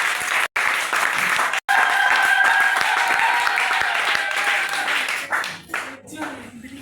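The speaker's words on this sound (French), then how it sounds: "Est-ce que tu peux acclamer pour les partenaires?" Audience at a French-language deliverance church service applauding in a sustained, dense burst of clapping with a voice carrying over it, briefly cut by two dropouts before the applause thins out near the end.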